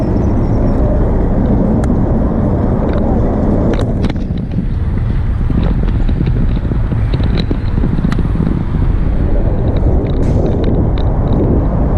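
A car passes close by on a street in China, its motor and tyre roar blending with heavy wind buffeting the microphone, with brief clicks and rattles scattered through.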